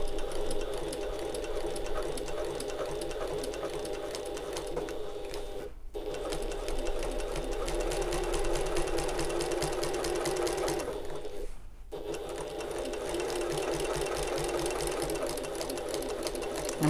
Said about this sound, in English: And we're going to sew all the way to the end.